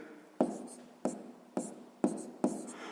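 Pen strokes writing out a math solution on paper, five distinct close scratches in a steady rhythm, each starting sharply and trailing off.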